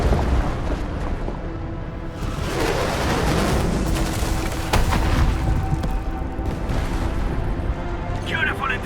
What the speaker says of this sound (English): The UWST will fire at where you've marked.